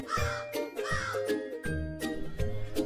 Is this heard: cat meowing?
no